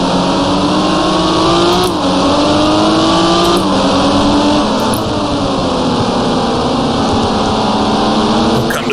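A race car engine roars in the GT Racing 2002 video game, revving high and sweeping through repeated upshifts and rising pitch under load, loud and continuous with no speech.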